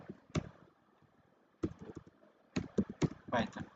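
Computer keyboard keys clatter in short bursts of quick taps, close and fairly soft, with pauses between runs of typing and some faint talking mixed in.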